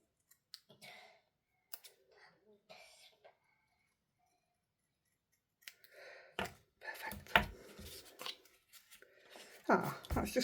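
Scissors snip out a piece for an embossing-glaze craft project, with sparse crisp clicks early on and a denser run of cuts and rustling later, close and fairly quiet, with a cough or throat clearing in between.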